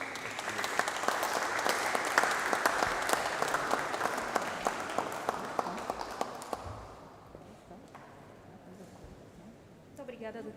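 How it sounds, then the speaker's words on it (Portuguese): Sustained applause from an audience at a book launch, many hands clapping steadily and loudly before thinning out and fading to near silence, then a brief burst of clapping returns at the very end. "ia pedir-vos vocês para uma salva de palmas para o livro"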